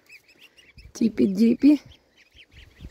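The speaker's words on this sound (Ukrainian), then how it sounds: "мама вирішила їх гусеняточок покормити, бо на вулиці холодно" Goslings peep in a high, thin chatter, fed outdoors in cold weather near a house, with a brief burst of close speech in the middle.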